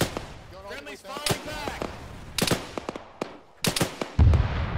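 Gunfire in ArmA 3 breaks out in sharp, scattered cracks and short bursts at varying distances, ending with a deep heavy boom, while voices shout and talk over the shooting.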